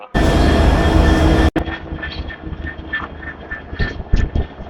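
A Barendra Express train at a station platform on the Rajshahi to Saidpur route: loud, steady rumble of the arriving locomotive and carriages, followed by a softer, busier mix of clanks, rolling and station bustle.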